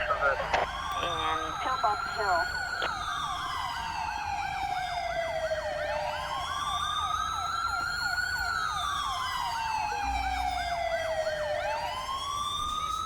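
An ambulance siren in the video game GTA 5 wails in slow rising and falling sweeps, steady and fairly close over a low background hum.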